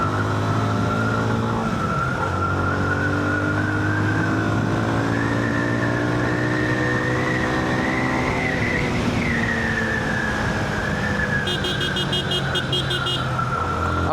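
A Yamaha FZ-25 motorcycle being ridden on a road, its engine a steady, close drone that rises and falls in pitch as the rider shifts and brakes.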